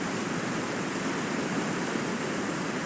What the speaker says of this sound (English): This waterfall is so loud.